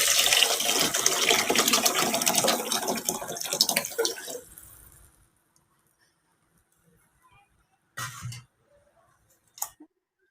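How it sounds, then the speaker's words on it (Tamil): Tamarind water mixed with coconut, tomato and coriander poured into a Bangalore-style fish curry, a loud splashing pour for about four seconds that tails off into silence, followed by a couple of brief knocks. "புளி, தேங்காய், தக்காளி, கொத்தமல்லி, கரைச்சி வச்சு தண்ணி அதை எடுத்து ஊற்றிடலாம்"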